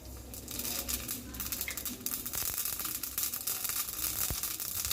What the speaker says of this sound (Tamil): எண்ணெய் சூடாயிடுச்சு, உளுந்து சேர்த்துக்கலாம். அடுத்து கூடவே கடுகு